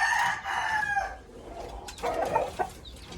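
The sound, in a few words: Maclean Hatch gamecock rooster crowing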